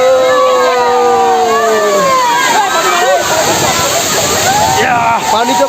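Kakochang Waterfall in Karbi Anglong roaring loudly and continuously, with splashing water close by as people wade in, and voices speaking over the dense rushing noise.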